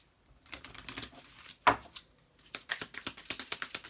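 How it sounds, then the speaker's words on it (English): Quick riffling and flapping of tarot cards being shuffled, in several bursts with a sharper slap in the middle, close and fairly quiet. "Let me give it a good shuffle."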